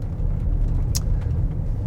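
Steady tire and road rumble from a Lexus NX Overtrail full hybrid rolling over an undulating gravel road, heard from inside the cabin as a continuous low drone with a brief faint click partway through.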